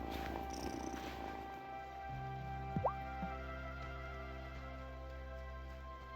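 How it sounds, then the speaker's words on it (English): Soft, steady cat purr in the video game Wylde Flowers, humming low and continuous, with a faint drip-like blip near the middle and no talking. "Listen to that purr."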